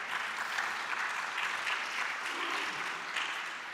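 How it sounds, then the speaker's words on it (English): Applause from an audience on the main stage of a nuclear ban forum, a fairly faint but steady, even patter of many hands clapping that holds throughout. "we'll have a round of applause"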